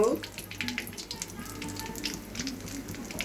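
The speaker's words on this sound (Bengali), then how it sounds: "জিরা দিয়ে দিলাম ফোড়নে। এগুলো একটু ভাজা হোক।" Bay leaf, dried chilli, cinnamon, cloves and cumin fry in hot oil with a steady crackling sizzle, close and continuous, while someone talks over it.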